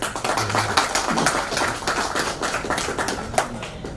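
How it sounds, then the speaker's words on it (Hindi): Members of the media clap at a political party's press conference in Uttar Pradesh, a close, busy patter of hands with voices mixed in throughout. "मीडिया बंधु आप ताली बजाओ सबसे पहले"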